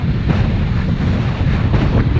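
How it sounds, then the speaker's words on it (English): Strong gusty wind roars steadily across the microphone during a bike ride in the Peak District, a loud continuous rush with no voices. "If you can hear me, I'm saying it's bloody windy."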